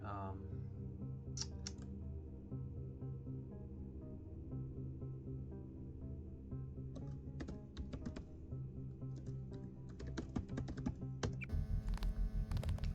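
Keystrokes typed in a video game, scattered clicks in short bursts over a continuous low game drone, ending in a denser run of rhythmic taps.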